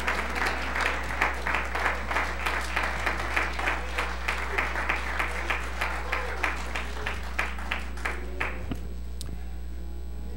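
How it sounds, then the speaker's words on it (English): At a church service, a congregation applauds in a steady rhythmic hand clap of praise, a regular beat roughly twice per second carrying for about eight seconds before tapering off, over a constant low electrical hum. "Give God a hand clap of praise."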